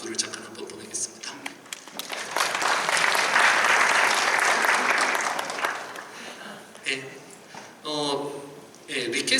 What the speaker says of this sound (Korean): 커스터마이징을 잘 지원해주는 언리얼 엔진에게 박수를 잠깐 한번 보내겠습니다.